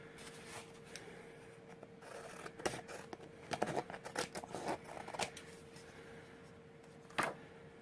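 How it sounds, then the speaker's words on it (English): Scissors snipping the excess paper off a handmade Frozen 2 card, a close, quiet run of crisp cuts bunched in the middle with a last snip near the end, no voices. "Cut all that excess off."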